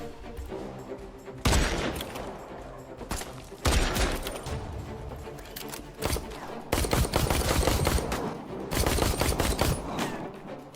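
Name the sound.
gunfire in first-person shooter video game Secret Sand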